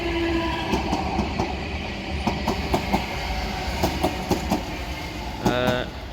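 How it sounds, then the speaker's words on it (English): A South Western Railway service to Chessington South pulls into Raynes Park station, with a steady rolling rumble and repeated rhythmic clacks over the rail joints, ending in a brief tonal horn-like sound. "here we have the arrival of the 1219 South Western Railway service to Chessington South"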